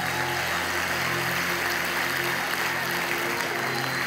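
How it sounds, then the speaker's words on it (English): Audience applause fills a youth camp worship session, a steady, dense wash of clapping that holds evenly from start to finish with no speech over it. "yeah, you can clap for that"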